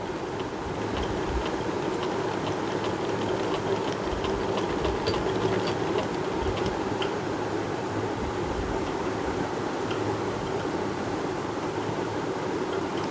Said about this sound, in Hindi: अब इसको किनारे किनारे इसकी सिलाई होगी